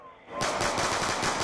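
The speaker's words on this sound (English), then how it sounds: "This ray gun runs out of ammo way too fast" Ray gun firing in Call of Duty Black Ops 2 Zombies on the Town map, a loud, dense burst of rapid energy shots that kicks in suddenly after a quiet start and keeps going steadily to the end.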